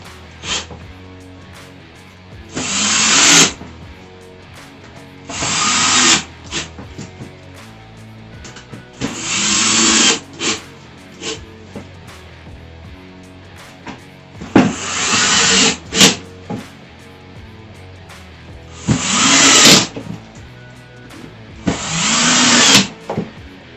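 Screws driven tight on a rustic wooden trash can during assembly, apparently with a power driver: six short whirring bursts a few seconds apart, each a second or so long, with quieter handling sounds and clicks between them.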